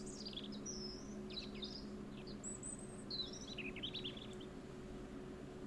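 Recorded bird song plays back indoors, a long run of high chirps and warbling phrases repeating across several seconds, moderately loud over a steady low electrical hum.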